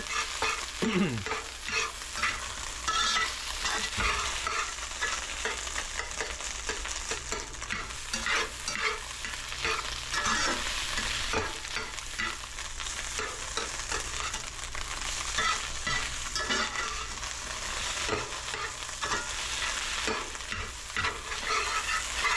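Rice fries in a hot pan, its grains browning and separating as it is stirred, giving a steady loud sizzle broken by frequent scraping strokes from start to finish.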